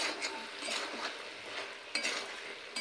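Vegetables for Bangal-style data chorchori are stirred in a pan with salt and sugar, making a continuous scraping, rustling sizzle with a few sharper spoon-on-metal clinks near the end, close and steady, with no talking.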